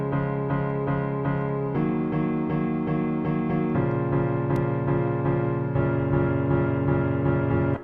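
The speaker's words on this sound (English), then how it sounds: "So we have a chord progression in basic form." A chord progression in basic form plays on a sustained keyboard-like instrument, with block chords changing every couple of seconds and steady loudness throughout, with no voices.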